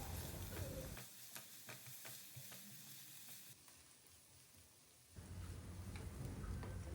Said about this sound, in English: On medium flame, we will saute them well until the raw taste of onion, ginger, garlic goes away and they turn golden brown in color.